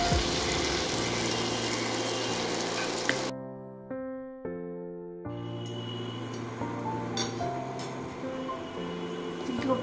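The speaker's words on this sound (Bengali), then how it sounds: "বরফিগুলো এইরকম লাল লাল হয়ে ভেজে নিতে হবে।" Pumpkin dhoka pieces fry in a pan with a hissing sizzle under steady music. The sizzle drops out briefly in the middle, then returns.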